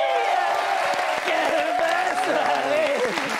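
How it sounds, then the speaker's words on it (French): A studio audience at a French TV comedy show applauds in a dense, steady patter of clapping, while a voice talks over it. "Salim, on peut l'applaudir"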